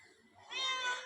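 A cat meows once, a rising, drawn-out call that swells loud and close in the second half after a quiet start.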